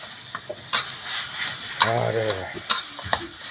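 Pork stirred into Northern Thai nam prik ong chili paste in a pan, with repeated scraping and clacking strokes over a steady low sizzle, close and fairly loud, and a voice briefly under it.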